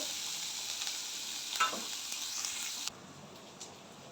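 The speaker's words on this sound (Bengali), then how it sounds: "এবার বেশ হালকা লাল লাল করে ভাজা হবে অনেকটা পরিমাণে রসুন দিয়েছি আর পেঁয়াজও দিয়েছি" Garlic and onion frying in a pan, a steady close sizzle with stirring scrapes, dropping abruptly quieter near the end.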